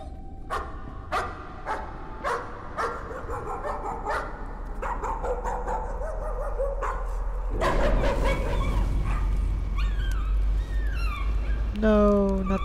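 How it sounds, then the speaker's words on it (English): Dog barks from the horror video game Layers of Fear, a run of sharp repeated barks and yips over a dark ambient drone, with a few whimpers and game sound effects following. "No, not the dog. Looks like a dog from Resident Evil."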